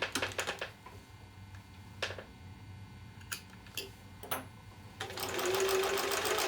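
Scattered clicks and handling taps give way to a steady sewing-machine run stitching the remaining seams of a mini mosaic quilt, a close whir that starts in the final second and continues to the end.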